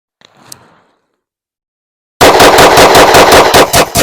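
A 9mm IWI Masada Slim pistol fires a fast string of about a dozen sharp, loud shots at an outdoor range after a brief faint rustle and near silence.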